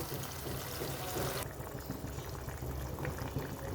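Hot water poured into a sizzling pan of frying needlefish curry masala; a loud, bright hiss drops abruptly partway through into a softer bubbling simmer, close by and without talk.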